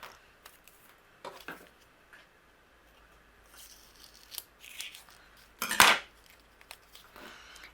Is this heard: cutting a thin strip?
yes